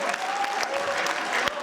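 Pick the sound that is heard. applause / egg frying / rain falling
applause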